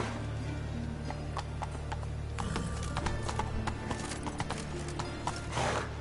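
Roach the horse galloping in a PS4 video game, with rapid rhythmic hoofbeats and clip-clop growing busier midway, a whinny, and clinking tack over a steady game background hum.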